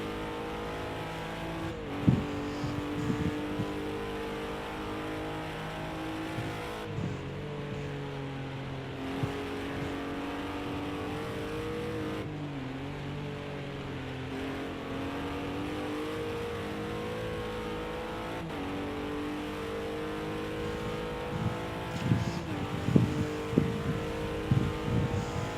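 Onboard engine of a GT4 race car lapping the Red Bull Ring in qualifying, a loud continuous drone rising and falling through gear changes, with brief bumps and rattles from kerbs and rumble strips.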